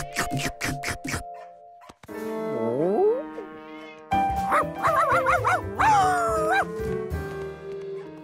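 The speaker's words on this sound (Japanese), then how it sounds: "ねえ、今のうちの犬？" Cartoon dog barking in a children's animated show, a quick run of sharp yips at the start, followed by whining, sliding cartoon vocal sounds and musical tones, loud and close with no talking.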